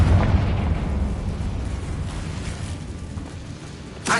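A Confringo blasting spell goes off in a Harry Potter wizarding video game, a loud booming explosion at the start that rumbles down into a long, dull roar. A short sharp burst pops near the end.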